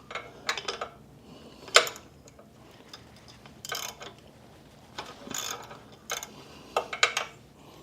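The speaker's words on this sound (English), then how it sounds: "It's held on by a 110mm bolt. So we'll pop that off and disconnect the wires." A wrench works the bolt holding the stock horn on a 2019 Triumph Scrambler 1200 XE, giving a series of close, quick ratcheting clicks in short bursts with brief pauses between them.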